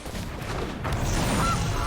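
A goose honk sounds for the Goose card played in the Magic Arena digital card game, one short synthetic call over a dense, loud game soundscape.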